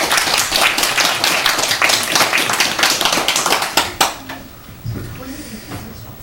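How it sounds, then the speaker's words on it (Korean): A church congregation claps for the choir during a Sunday worship service, a dense burst of many hands that is loud and sustained for about four seconds, then trails into scattered claps and room noise. "할렐루야 찬양대 감사하는 마음으로 박수 한번 하겠습니다"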